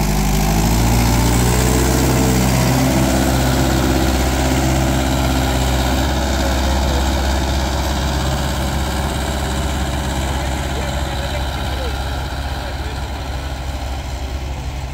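A Mahindra 575 XP Plus tractor's diesel engine runs steadily close by, a loud, continuous low throbbing rumble with a constant pulsing drone throughout.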